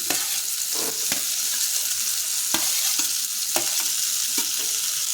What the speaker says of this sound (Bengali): ফুলকপি দিয়ে আরও দু মিনিট কষে নেব